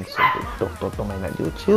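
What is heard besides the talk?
dogs fighting and playing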